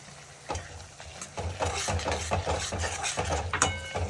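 Spices being mixed into a spicy dish in a pan, with repeated scraping and knocking of a spoon against the pan and a low rumbling background underneath.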